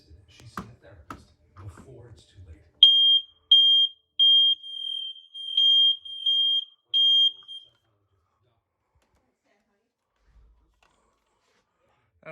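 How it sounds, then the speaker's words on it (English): During a test in a house, a smoke alarm sounds a series of six sharp, piercing high beeps in an irregular rhythm, each lasting about half a second to a second. A few soft clicks and handling noises come before the beeps and the room is silent afterward. "Okay, next alarm is right here."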